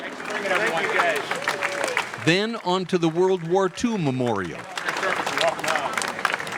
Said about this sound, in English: Spontaneous applause from the tourists